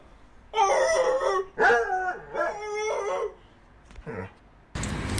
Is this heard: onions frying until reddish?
no